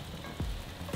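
E3 ground beef browning in a pan makes a steady, close sizzle, broken by two brief scraping sweeps of a utensil.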